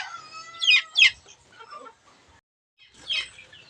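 A four-month-old fighting rooster gives a few short clucks and squawks close by, in two bursts split by a quiet gap, with soft rustling and faint bird chatter in the background.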